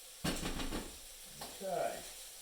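A clove or two of garlic hits a hot pan with a sharp burst of sizzling, followed by a second hissing flare, while a voice speaks briefly near the end.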